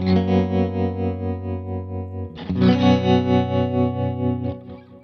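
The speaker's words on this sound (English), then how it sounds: "Here's just the trem in the back." Electric guitar through a Kemper profiler with a tremolo effect, sustained chords pulsing in a steady rhythmic throb, with a new strummed chord about halfway through, played alone with no talking.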